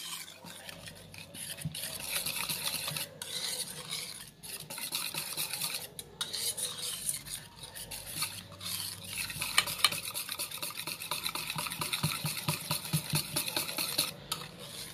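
Someone stirs white chocolate ganache in a pot with a steady rhythmic scraping and soft clinks against the sides. The sound is fairly quiet and close, with no voices.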